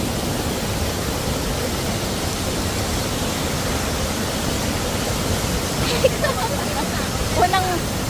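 A waterfall in Famy, Laguna roars as a steady, dense wash of rushing water, loud and constant throughout, with faint voices briefly audible near the end.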